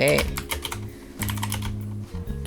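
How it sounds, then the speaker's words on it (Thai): Python code being typed on a computer keyboard, close clicky keystrokes in an uneven run with a short pause, alongside a steady low hum. "ผมจะพิมพ์ไปเลยนะครับ"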